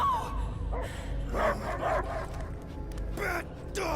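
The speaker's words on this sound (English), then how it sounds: "I hear only barking" A dog barks and yips repeatedly at close range in uneven bursts over a steady low rumble of background noise.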